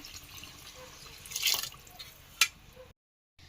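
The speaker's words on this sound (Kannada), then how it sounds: "ಇವಾಗ ನಾನು ನೀರನ್ನ ಆ್ಯಡ್ ಮಾಡ್ತಾ ಇದ್ದೀನಿ" Water poured into a pot of rice and chicken for Malnad chicken biryani, with a brief splash and a couple of drips up close, then a short silence.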